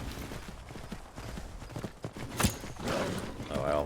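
Rhythmic clip-clop of horse hooves at a quick pace in the video game Skyrim, with game sounds and a brief sharp hit partway through.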